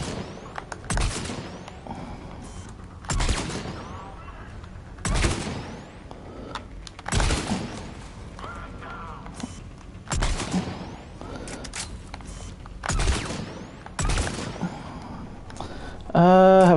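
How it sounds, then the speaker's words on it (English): Sniper rifle fire in Mass Effect Legendary Edition: heavy, evenly spaced single shots about every two seconds, loud and close, with mechanical clicks and faint game sounds between them. "Sniper rifle."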